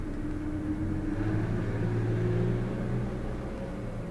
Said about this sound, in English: that was a very loud truck.